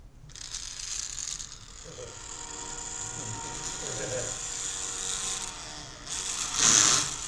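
An electric motor with worn, failing gears grinds and ratchets steadily under load as pressure is applied to the wheel, with a louder surge near the end.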